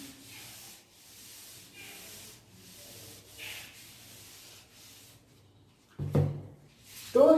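A duster rubs across a classroom board in a steady scraping sweep, repeated soft strokes at low level, followed by a couple of louder knocks or thuds near the end.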